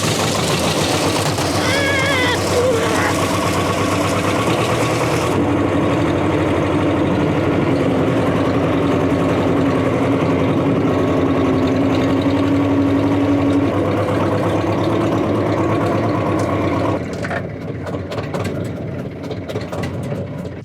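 A T-25 tractor engine runs steadily at a loud, close idle-like drone with a knocking diesel tone, continuous throughout and easing slightly near the end, with no talking.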